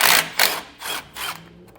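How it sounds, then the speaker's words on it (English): A ratchet works a 10mm bolt on a parking brake bracket near a vehicle's rear axle, clicking through four quick, close bursts of turning. "Here is the bolt that we can remove."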